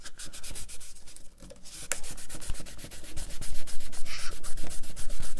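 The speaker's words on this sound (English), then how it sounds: "All I'm doing is polishing the fret guard" Rapid back-and-forth rubbing strokes as the fret guard of a Gretsch G2420 guitar is polished, a close, dry scrubbing texture that grows steadily busier and louder over several seconds.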